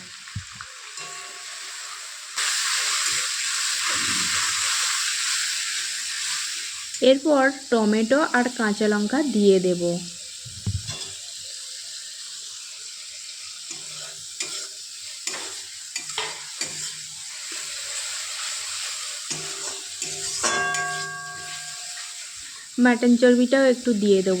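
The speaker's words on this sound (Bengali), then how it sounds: "তেলের মধ্যে পেঁয়াজ দিলাম পেঁয়াজটা যখন ভাজা হয়ে যাবে লাল লাল হবে তখন বেটে রাখা আদা রসুন আর লঙ্কা হলুদ আর সামান্য একটু জল দিয়ে নাড়াচাড়া করতে থাকবো" Onions fry in hot oil while being stirred with ginger-garlic paste, chilli and turmeric for a soybean curry: a steady sizzle and hiss with scraping stirs, and someone talking over it at intervals.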